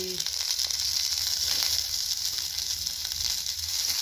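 Green chilies hiss in hot oil for poha in a steady, close sizzle that holds throughout, with a faint voice briefly at the start.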